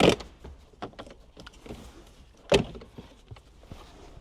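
A plastic trim panel is pried out of a Toyota Tundra interior by hand, giving a few scattered clicks and creaks with one loud, sharp snap midway through an otherwise quiet stretch.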